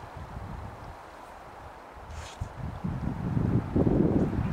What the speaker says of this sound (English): so the wind's blowing